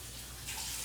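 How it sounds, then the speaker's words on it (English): Tap water runs steadily over hands at a kitchen sink while meatballs are being prepared, a close, even rushing flow with no talking. "So I'm going to just wash my hands quick and then leave water on"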